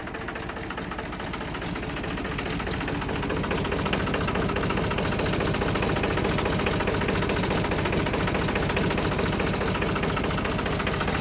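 A Mahindra 295 tractor engine idles steadily and loudly up close, a continuous low rumbling throb with constant vibration throughout.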